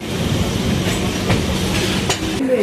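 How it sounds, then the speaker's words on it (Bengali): A local train runs on rails toward Sealdah, loud and close, with a steady rolling rumble, rhythmic clickety-clack of wheels over joints and a brief wheel squeal near the end. "তো আমরা এখন ট্রেনে উঠে পড়লাম,"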